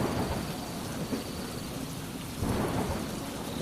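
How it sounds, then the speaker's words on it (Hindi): Heavy rain pours steadily with a deep roll of thunder underneath, a constant dense downpour close by. "बारिश थमने का नाम नहीं ले रही थी।"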